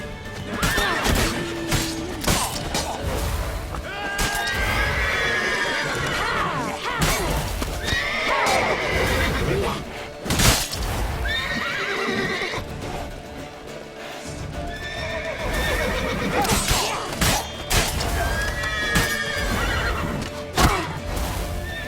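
A horse neighs and whinnies several times in a Witcher 3 game scene, with clip-clopping hooves, occasional crashes and sporadic voices in between.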